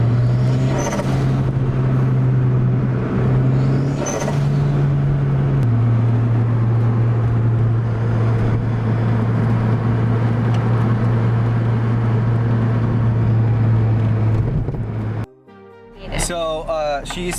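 A 275HP turbocharged Lotus Elise pulls hard on full boost, its engine droning loud and steady from inside the cabin with a gear change partway, before the sound cuts off near the end.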